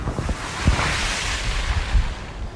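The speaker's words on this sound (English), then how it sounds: "At Lyme Regis, the waves grew with every hour." Storm waves crash and roar against the coast at Lyme Regis in exceptional winter weather, a brief, dense wash of surf with wind buffeting the microphone and no voices.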